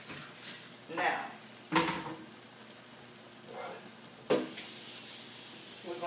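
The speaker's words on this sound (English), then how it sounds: "searing it with olive oil and shallots and some garlic" Meat searing in olive oil with shallots and garlic, with a soft background sizzle broken by several sharp clanks and scrapes of stirring spaced a second or two apart, close by.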